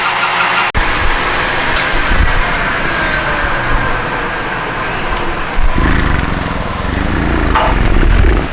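A power drill bores into a threaded rod during work on a B&S generator, grinding and whirring loudly and continuously, with a sharp jolt near the start and load changes that shift the motor's tone.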